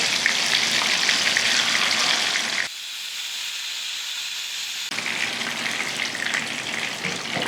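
Sankara fish coated in masala sizzles steadily in a frying pan, a loud, close, continuous crackle that drops to a quieter hiss for about two seconds midway, then swells back to full strength.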